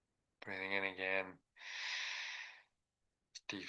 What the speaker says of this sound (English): Deep, slow, full inhale breath.